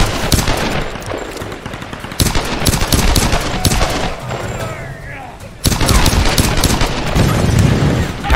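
Gunfire in the video game Tomb Raider: dense, loud bursts of rapid automatic shots that fill most of the clip, easing off briefly in the middle before resuming at full strength.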